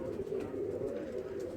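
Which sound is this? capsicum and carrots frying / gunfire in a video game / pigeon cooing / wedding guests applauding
pigeon cooing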